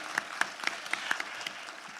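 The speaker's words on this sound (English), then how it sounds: "Ladies and gentlemen, a round of applause for Jason." Sparse, light applause from a small audience at a museum collections symposium panel, a few distinct claps standing out over a soft, steady patter lasting about two seconds.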